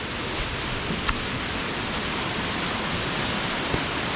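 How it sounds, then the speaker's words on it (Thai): A steady, dense roar of a waterfall in the Mae Kampong village area of Chiang Mai, Thailand, continuous and even, with a couple of faint clicks over the broadband rush. "ข้างบนมีน้ำตก"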